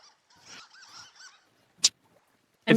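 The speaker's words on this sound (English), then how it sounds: "That's the mallards probably, yeah. I don't see them, but I hear them." Mallard ducks calling unseen outdoors, a few harsh honking quacks: a soft run of calls early on, then two sharp, loud bursts near the end, with no talking.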